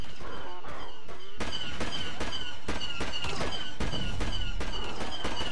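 A slow-firing weapon in Star Wars Battlefront shoots in a rapid series of sharp, punchy blasts, about a dozen of them, fired at roughly even intervals. The shots ring out loud and close with no talking.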